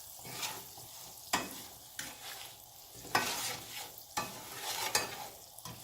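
Sugar mixture being stirred in a pot, repeated scraping spoon strokes roughly every second with soft swishing between, close and fairly quiet.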